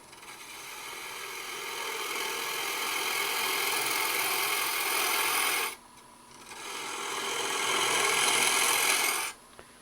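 A lathe tool slices the fibers of a spinning wooden cone sleeve for a tailstock in two long, rasping cuts, close and steady, with a brief pause between them.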